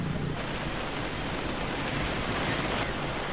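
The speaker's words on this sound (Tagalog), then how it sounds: "Kasabay nito ang pag-ihip ng malakas na hangin habang ang mga alon" Strong waves surge and crash along the Leyte coast during Typhoon Quinta, a loud, unbroken roar of surf and wind with no pauses.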